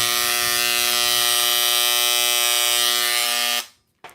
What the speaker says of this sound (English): This is the Dremel engraver.